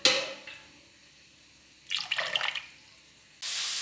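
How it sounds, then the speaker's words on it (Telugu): Water poured over rice for mushroom biryani, a brief splashing pour after a short quiet gap, then a steady faint hiss, close and without talking. "రెండు గ్లాసులు పోసుకుంటే చాలు,"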